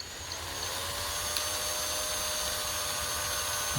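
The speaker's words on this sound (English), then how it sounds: "You can see I might start drilling that" A power drill bores into a crankbait fishing lure, giving a steady, continuous high whine that holds unbroken at close range with no voices.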